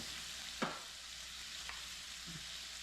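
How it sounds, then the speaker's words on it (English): Stir fry with green onions and tofu cooking in a pan, a steady soft sizzle with a few brief stirring scrapes, quiet and even throughout. "Very simple stir fry."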